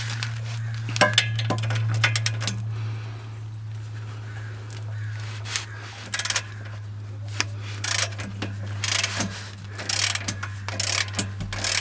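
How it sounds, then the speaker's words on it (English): A ratchet works an 18mm bolt loose on a Mustang GT during a Panhard bar install, giving bursts of sharp clicking and clanks over a steady low hum, close by and without speech. "I'm going to go ahead and break that loose and get this out of here."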